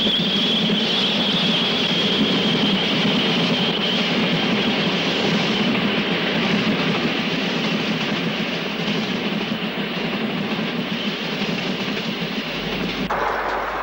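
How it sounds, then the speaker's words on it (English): A King class steam locomotive passes Hatton station on a northbound climb toward Wolverhampton in 1962, a loud, close, continuous rumble of wheels and carriages that holds for the whole stretch. "A King passes the station bound for Wolverhampton in"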